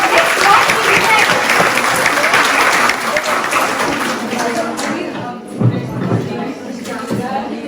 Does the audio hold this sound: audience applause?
yes